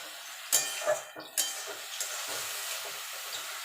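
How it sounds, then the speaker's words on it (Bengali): Red amaranth greens frying in a pan over low to medium heat: a soft, steady sizzle with a few sharp clinks and scrapes of a utensil stirring early on, then settling into quiet frying. "এটাকে ঢাকা দিয়ে লো টু মিডিয়ামে এটাকে আমি ভাজা ভাজা করে নেব"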